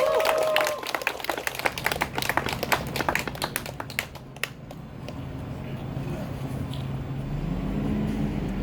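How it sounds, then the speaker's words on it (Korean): A crowd at an outdoor protest rally in Daejeon's Wolpyeong Park claps loudly and unevenly for several seconds, then the applause thins and fades into a murmuring, noisy street background. "뜨거운 함성으로 맞아주시면 감사하겠습니다"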